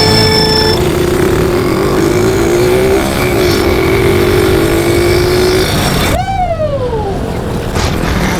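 Loud, whining engines of 150cc go-karts, one turbocharged and one naturally aspirated, hold a steady pitch through a drag run, then one engine note sweeps sharply downward as it revs off near the end.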